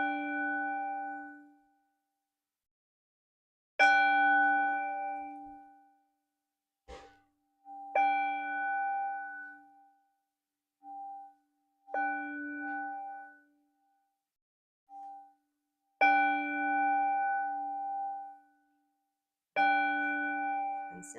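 A meditation bell rings out again and again during a slow walking meditation, each clear metallic strike sustaining and fading before the next, with long silent gaps between strikes.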